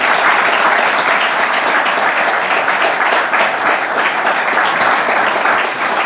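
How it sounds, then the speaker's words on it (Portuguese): A church congregation breaks into loud, dense applause during a service, a steady sustained roar of many hands clapping at close range with no break, and no voices rising above it. "E os irmãos dêem uma salva de palmas para Jesus."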